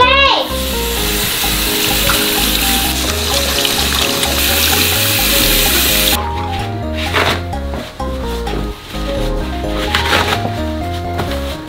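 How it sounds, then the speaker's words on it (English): Hands being washed under a running kitchen tap, a loud steady rush of water that continues without pause, then turns choppier and more splashy partway through. Background music plays throughout. "Let's wash our hands, Wendy."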